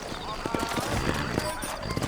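Horse hooves clip-clop in the Red Dead Redemption video game, a steady trotting patter close by under a voice and game ambience.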